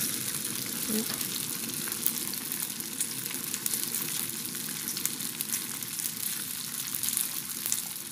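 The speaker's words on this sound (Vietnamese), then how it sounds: "Các bạn để vô chiên các bạn hạ lửa nhỏ xuống nha" Steady crackling sizzle of tofu skin frying in a hot pan over low heat, continuous and fairly close, with no talking over it.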